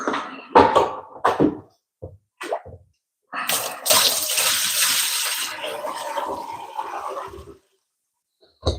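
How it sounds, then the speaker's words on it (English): Dirty cleaning water sloshing and pouring in bursts while cleaning a house, with short splashes first and then a longer rush of water before it stops. "You're probably gonna hear water sloshing and everything,"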